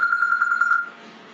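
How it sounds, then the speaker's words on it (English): A phone alarm rings loudly up close as a rapid trill of pulsing beeps, cutting off abruptly after under a second and leaving near silence. "Oh, crap, that's my phone."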